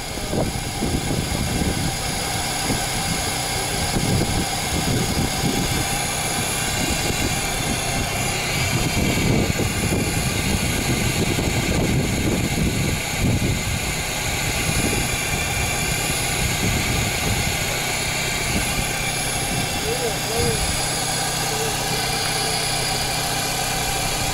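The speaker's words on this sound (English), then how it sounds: "The air pump is running." Air pump running during repairs on a Peugeot 307 180hp Feline, a loud continuous mechanical hum with steady droning tone throughout, no voices over it.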